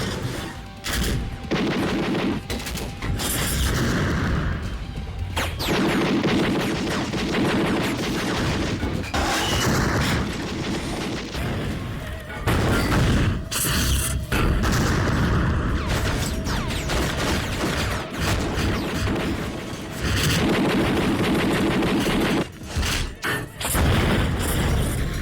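Explosions and gunfire-like blasts in Xenosaga Episode II, with heavy booms and crashes arriving in dense, repeated bursts for about twenty-five seconds, loud and continuous with almost no pauses.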